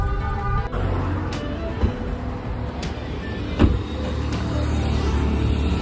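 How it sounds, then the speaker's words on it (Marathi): A car cruising along a road on a trip to a village, with a constant engine-and-tyre drone inside the cabin punctuated by a few soft thumps and clicks from bumps, no talking. "गाडी चलव पुढे जरा."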